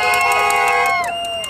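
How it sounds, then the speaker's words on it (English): Protesters gather outside Oroville Hospital over layoffs, a loud close crowd of many overlapping high voices shouting and calling out together in a short burst. "A huge crowd of protesters gathered in front of Oroville Hospital late Thursday afternoon demanding answers regarding recent layoffs"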